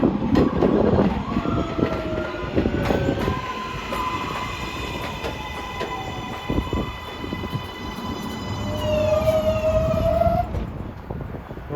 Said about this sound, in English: Here comes a Flushing bound local amid sirens.